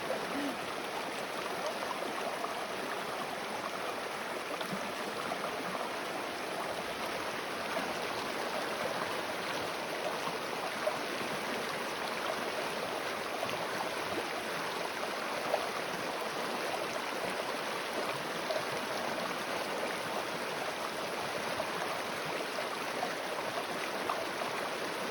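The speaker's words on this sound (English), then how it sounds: "This is the river, like it's so fast moving." Fast-moving water of a mountain creek or river on the Colorado Trail rushes in a steady, loud, unbroken roar with no pauses.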